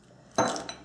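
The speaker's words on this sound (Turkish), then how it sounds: "Onu kıralım" A single egg cracked open for an Ottoman-style meat and wheat soup: one sharp crack against a bowl's rim, followed by a brief wet shell rustle, close and alone.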